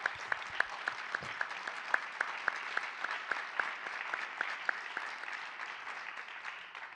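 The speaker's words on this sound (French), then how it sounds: "il faut déjà applaudir M. Vallon" At a talk, an audience applauds the speaker: a steady patter of many hands, with one nearby clapper's sharp, regular claps standing out above the softer crowd throughout.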